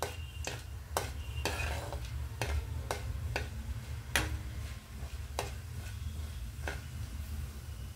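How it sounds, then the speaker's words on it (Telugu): Mustard and cumin seeds frying in oil in a pan for an eggplant curry, heard as a steady soft sizzle broken by sharp popping clicks, close and fairly quiet, with no talking. "ఒక హాఫ్ స్పూన్ ఆవాలు, ఇవన్నీ వేగాలండి"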